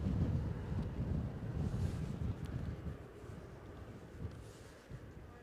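Strong, gusty wind at Edinburgh airport buffets the microphone as a steady, loud low roar that eases slightly toward the end, with no talking.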